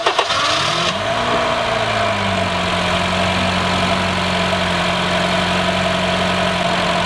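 Honda Fit engine with a K&N cold air intake cranking briefly, catching and settling into a steady, close, continuous idle with a smooth hum and audible intake noise.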